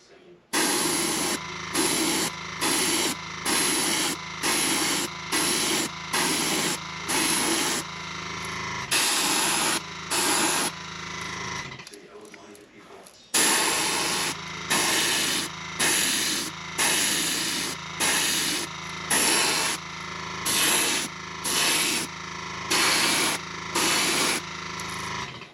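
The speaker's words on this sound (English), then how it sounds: "We're going to spray over this with some white." Short rhythmic hisses of white spray paint repeat in regular pulses over bait wrapped in wire mesh, close and loud, with a brief pause midway before the bursts resume at the same steady pace.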